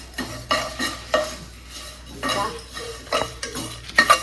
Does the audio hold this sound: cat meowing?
no